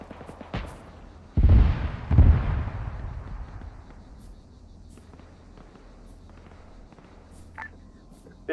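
A Dragon anti-tank missile in the Arma military game launches with a sharp near blast, followed by a second heavy explosive boom about a second later, both rumbling out into a quiet battlefield ambience.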